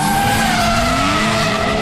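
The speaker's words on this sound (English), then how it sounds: "That is the actual sound of BF Goodrich G-Force tires on a closed course" BF Goodrich G-Force tires skid on a closed course, a loud, continuous high squeal with sliding tonal pitches over engine roar, close and uninterrupted.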